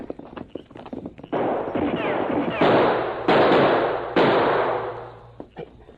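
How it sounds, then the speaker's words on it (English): Gunfire from behind a large rock on the side of a canyon in an old western radio drama: a rapid run of sharp, loud cracks and rattling bursts that rise, hold, then taper, with brief voices at the start. "Someone shooting behind large rock on side of canyon."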